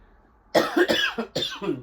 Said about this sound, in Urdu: سوری آج مجھے تھوڑی کھانسی بھی ہوئی ہے